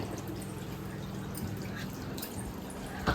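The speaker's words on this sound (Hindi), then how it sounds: "और अब यहाँ पानी चल रहा है, यहाँ की धुलाई कर देते हैं।" Tap water runs steadily in a home kitchen while washing up, a continuous close splashing and dripping wash with no talk over it.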